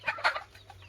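Farm rooster clucking, a couple of short throaty clucks close by, brief and fairly soft.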